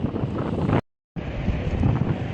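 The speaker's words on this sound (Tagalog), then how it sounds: "Super hangin, promise." Strong outdoor wind in Kuwait buffets the microphone with a loud, steady roar and rumble, cutting out completely for a moment before returning just as heavy.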